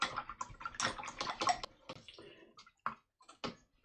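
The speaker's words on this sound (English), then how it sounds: "So I'm going to wash my brush out" A watercolour paintbrush swishes and taps in a water jar, a run of quick, close splashy strokes and clinks, then a few sparser dabs, with no talking.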